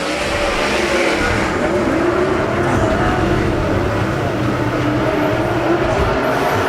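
USAC/CRA sprint cars race in a heat of the Hall of Fame Classic at an Arizona speedway, a continuous, loud and dense engine roar that holds steady throughout.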